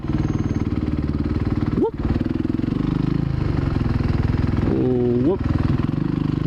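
A light Supermoto motorcycle's engine throbs loudly and steadily while riding, with brief revs rising in pitch; a rider's voice exclaims over it.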